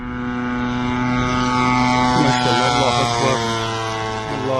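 An attack drone flies over a military base, its steady propeller-like drone holding loud and continuous throughout, with shifting tonal whines layered on top.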